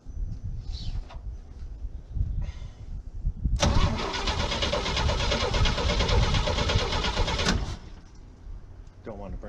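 The starter on an old Chevy, sitting unused for eight years, cranks the engine after a battery charge, with a loud, close, rhythmic churning for about four seconds amid quieter rumbling before and after.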